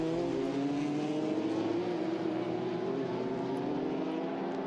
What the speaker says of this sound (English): a look at the cars coming through La Source hairpin back into the Eau Rouge